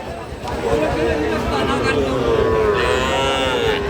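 Sahiwal cattle moo loudly at the Raniganj cattle market in Ghoraghat, Dinajpur, with one long, drawn-out low call rising over the crowd's murmur and people talking nearby.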